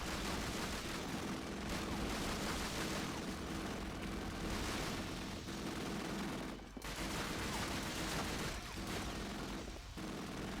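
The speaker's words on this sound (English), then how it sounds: "The rate of fire on it, though, on the grease gun, is a little kind of low for what I'm liking." Sustained automatic fire from an M3 grease gun in Call of Duty: Finest Hour, a dense continuous rattle of shots with battle noise filling the background, loud and steady with a couple of brief gaps.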